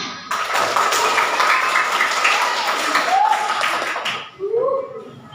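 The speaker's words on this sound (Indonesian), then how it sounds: "tepuk tangan" A school audience at SDN 1 Winong claps together in a dense burst of applause that lasts several seconds, then fades as voices rise briefly near the end.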